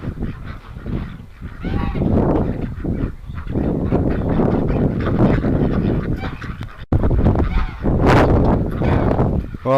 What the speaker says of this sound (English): the ducks have finally decided to come over and see me